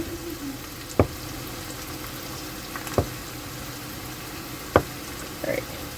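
Chopped Spam frying with onions in a pan, a steady close sizzle throughout, broken by three sharp clacks of a utensil against the pan and a faint scrape near the end.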